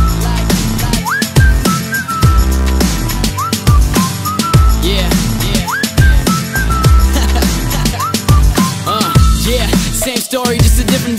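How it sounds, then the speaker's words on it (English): A looping whistled hook in a pop remix recurs every couple of seconds, bright slides and held notes over thumping kick drums and bass, loud and unbroken with no talking. "so I whistled at her."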